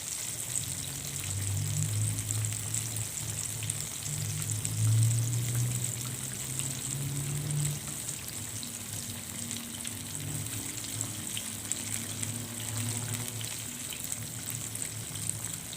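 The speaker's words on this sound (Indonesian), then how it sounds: "Kemudian dilanjut menggoreng tempe ini sampai nanti bagian bawahnya sudah mulai" Tempeh pieces frying in hot oil in a home kitchen, a soft, continuous sizzle and crackle heard close up but at low volume, with no talking.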